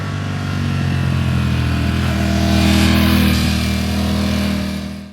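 A Ducati Streetfighter V4S motorcycle engine revs loudly and steadily at close range, its deep throbbing note swelling in the middle and easing slightly toward the end, with no voices.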